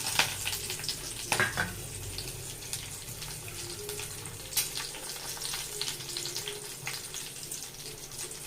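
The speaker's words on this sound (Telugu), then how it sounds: "ఆయిల్ హీట్ అయ్యాక" Whole tempering spices crackle in hot oil in a pan for a South Indian sambar, giving a steady bright sizzle with a few sharper pops and clinks throughout.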